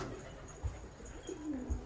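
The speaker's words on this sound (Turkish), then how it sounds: "Burada bir tane Afgan güvercin var arkadaşlar" Pigeons in a loft, including an Afghan breed, give soft, low coos in two or three short calls across a quiet, faint background.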